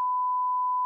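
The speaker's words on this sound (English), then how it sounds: "We'll beep it out." A single censor beep, a pure steady tone held for just under a second, loud and clean, then cut off abruptly into silence.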